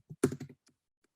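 Keys on a computer keyboard struck in a quick cluster, a firm Enter press followed by a few lighter, isolated taps, close up against near silence.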